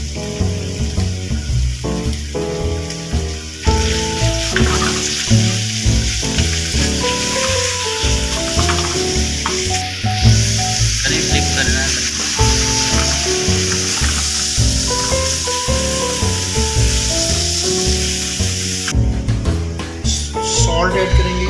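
Chicken mixture sizzling and frying in a pan, a steady loud hiss throughout with stirring clatter and a person talking over it.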